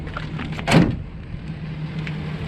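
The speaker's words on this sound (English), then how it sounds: "It's actually not that heavy of a tailgate." A 2019 Ford F-250 Super Duty Platinum pickup's tailgate is let down, a single short swoosh and thud close by over low outdoor background hum.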